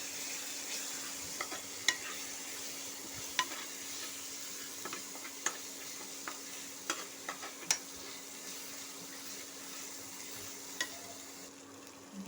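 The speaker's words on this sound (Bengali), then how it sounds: "একটু নেড়ে চেড়ে নেব।" Spices with garlic paste, ginger paste, turmeric and chili powder sizzling and being stirred in a pan, a steady frying hiss with sharp scattered clicks of a utensil against the pan.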